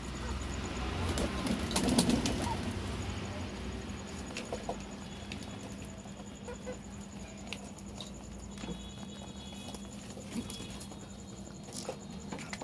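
Pigeons and chickens in a coop at dusk: soft cooing and clucking with occasional wing flutters and patter, faint and spread out, continuing steadily for several seconds.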